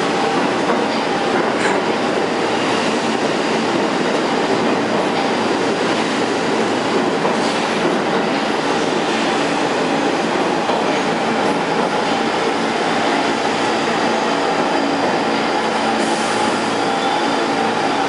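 An R46 subway train runs on the A line toward Jamaica-179th Street, a continuous loud rumble and roar of wheels on track with faint clatter and brief squeals throughout.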